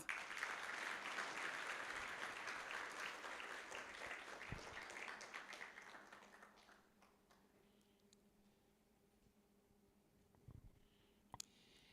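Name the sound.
audience applause at a conference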